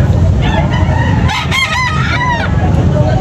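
A backyard rooster crows loudly once in a rising, wavering call, with clucking chickens and other fowl in a busy outdoor setting.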